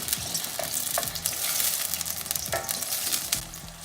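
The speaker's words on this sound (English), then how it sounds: "I'm just cooking this tomato puree for about 3 to 4 minutes." Tomato puree cooking on low flame in a pan for dal makhani, giving a steady close sizzle and frying crackle with a few soft stirring scrapes, no talk.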